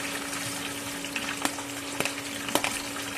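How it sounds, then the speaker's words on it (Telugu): Onions hit heated oil in a pan for a tomato curry, giving a steady, dense sizzle with a few sharp clicks and stirring knocks, close by and without talk. "ఆయిల్ అయితే హీట్ అయిపోయిందండి. ఇప్పుడైతే ఆనియన్స్ అనేవి అయితే వేస్తున్నాను."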